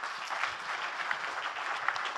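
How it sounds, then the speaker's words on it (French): An audience at a conference plenary claps steadily, an even spread of many hands throughout the short stretch with no voices over it. "Et si vous pouvez applaudir pour eux"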